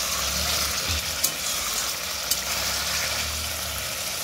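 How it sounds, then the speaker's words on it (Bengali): Spices frying in hot oil in a pan give a steady, close sizzle that runs on without a break, with a couple of faint clicks from utensils and no talking. "বেশ ভালোভাবে মশলাটা ভাজা হয়ে গেল"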